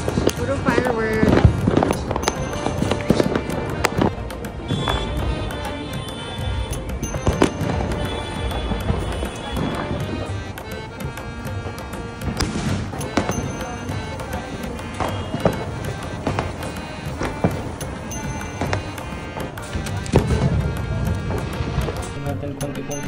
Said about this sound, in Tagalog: Puro fireworks.